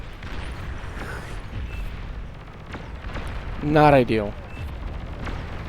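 Artillery shells bursting against buildings in the strategy game Beyond All Reason, several scattered booms and thuds beneath a steady rumble, with someone talking over them.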